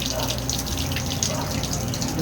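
Steady running water poured during a pet's bath, a continuous broad splashing wash close by with voices talking over it.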